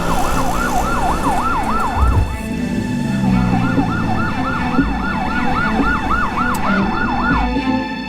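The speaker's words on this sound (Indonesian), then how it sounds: "Ambulans, kita kan juga buru-buru." An ambulance siren wails in a fast rising-and-falling pattern, loud and close, with a brief break midway before it resumes, over traffic rumble.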